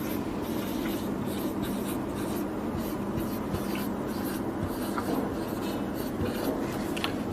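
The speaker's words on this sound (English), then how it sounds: "I'll write it down" Pen writing by hand on paper or a board during a lesson, a steady continuous scratching and rubbing that runs throughout at close range, with no talking.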